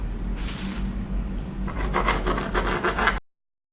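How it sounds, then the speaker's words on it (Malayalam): A knife cuts the crusts off slices of bread for a banana sandwich, making a steady rasping saw-like scrape that grows louder and more rhythmic with short strokes near the end. "നമുക്ക് ഈ ബ്രെഡിൻ്റെ സൈഡ്സൊക്കെ ഒന്ന് കട്ട് ചെയ്തെടുക്കാം"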